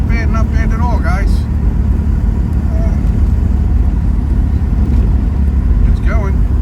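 A 1986 Pontiac Fiero GT driving along in fourth gear, a steady loud engine and road rumble throughout with brief squeaks and rattles, heard from inside the car.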